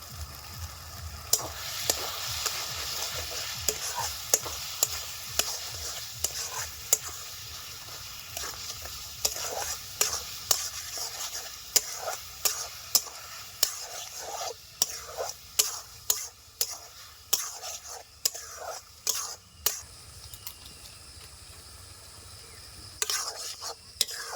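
Coconut, sugar and date filling for sago laddu being stirred in a pan, with repeated close scraping spoon strokes over a soft sizzle, irregular and steady throughout with no talking.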